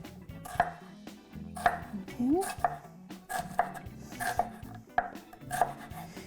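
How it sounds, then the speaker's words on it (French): A knife finely chopping onion on a board gives rapid, regular knocks in short bursts, fairly soft and close, with a voice talking over parts of it. "Même pas le quart d'un oignon, OK? Puis, il faut le hacher vraiment finement"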